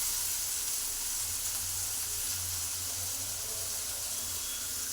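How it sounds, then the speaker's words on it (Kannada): Onions fry in a pan with a steady, close sizzle and hiss that holds evenly throughout the short stretch without pause. "ಈರುಳ್ಳಿ ಹಾಕ್ಬಿಟ್ಟು ಫ್ರೈನ ಮಾಡ್ಕೊತಾ ಇದ್ದೀನಿ"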